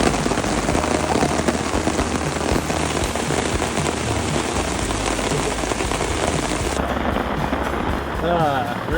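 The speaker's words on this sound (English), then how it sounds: "Rainy days, rainy days." Heavy rain pouring steadily on a roadside during a cycling trip across Ontario, a dense loud hiss with pattering throughout, briefly changing near the end as the downpour thins.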